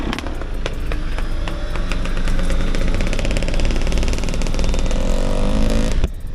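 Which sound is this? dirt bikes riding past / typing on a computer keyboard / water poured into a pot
dirt bikes riding past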